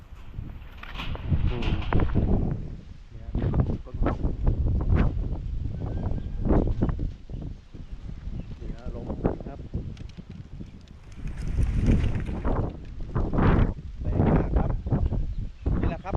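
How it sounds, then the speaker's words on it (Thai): Strong wind gusts buffet the microphone at a natural fishing spot for snakeskin gourami near Lat Lum Kaeo–Lat Bua Luang, loud uneven rushes and thumps rising and falling throughout, with someone speaking at times under the roar. "ตอนนี้ลมแรงมากครับ"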